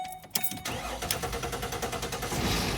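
A 2010 Ford Explorer fitted with a new starter cranks briefly and catches, then settles into a steady running engine sound, close and fairly loud with no talk.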